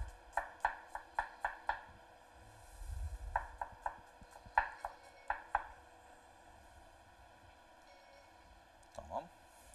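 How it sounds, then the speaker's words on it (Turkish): Sharp knife chops tap rapidly on a cutting board in quick bursts while finely chopping garlic, pausing between runs, close and crisp. "Sarımsağımızı da incecik incecik doğrayalım."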